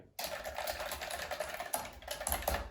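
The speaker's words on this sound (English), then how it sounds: "it has the nice clicking sound that you also have from the IBM keyboard." Fast clicky typing on an Olivetti Keyboard 1 (ANK 2463, an IBM Model F), close and crisp, a rapid run of sharp key presses with a few brief pauses.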